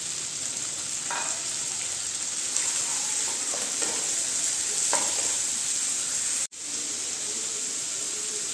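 Potato and tomato fry in a pan with onion, garlic, ginger and green chili paste, a steady loud sizzle and hiss throughout with a few faint stirring scrapes, cut by one brief dropout near the end.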